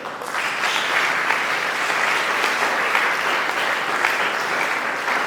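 A large audience claps steadily and loudly, sustained applause without pause for the whole stretch.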